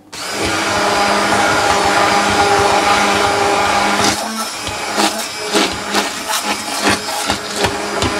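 An electric mixer whirs loudly and steadily for about four seconds while blending a chocolate tart filling with eggs, then stops, leaving scattered clinks and knocks of bowl and utensils.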